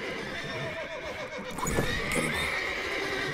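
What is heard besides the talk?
horses neighing in The Witcher 3: Wild Hunt video game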